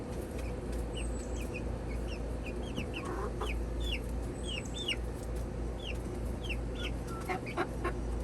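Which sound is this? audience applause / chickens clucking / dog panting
chickens clucking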